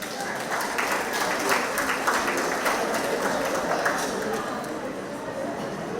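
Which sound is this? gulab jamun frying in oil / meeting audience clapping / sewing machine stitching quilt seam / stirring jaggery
meeting audience clapping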